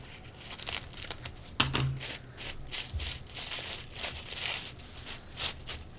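Scissors snip and crinkle through tissue paper while paper flowers are being cut, giving soft close rustling with a sharper cut partway through and no talking.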